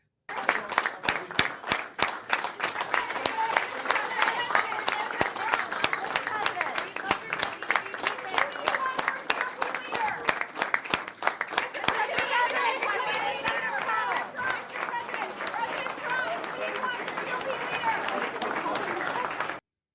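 A crowd at the Capitol claps rapidly and steadily for Trump, a dense, fast, sustained applause with cheering and chatter mixed in, loud and continuous throughout.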